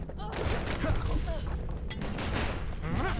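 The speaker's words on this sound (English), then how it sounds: "Calamity cannon." The Calamity Cannon in Bastion fires a dense, booming volley that keeps rumbling through the whole short stretch, loud and close, with a voice speaking over it.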